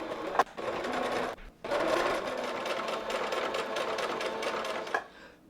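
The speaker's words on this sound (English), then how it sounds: "Now I'm going to flip it out from that. I'm going to sew that corner on here," A sewing machine stitches a corner of a Norse hood: a fast, steady mechanical whir in two runs separated by a brief pause, close and clear, with no voices.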